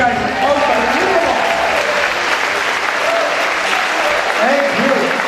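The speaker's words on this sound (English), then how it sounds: "Give yourselves a round of applause." Audience at an Italian Night concert clapping loudly and steadily for several seconds, a dense wash of applause with a few voices and cheers mixed in.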